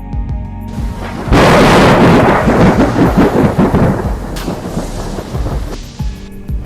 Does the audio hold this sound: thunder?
yes